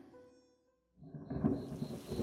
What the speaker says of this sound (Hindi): बाहर जोरों की बारिश होने लगी है।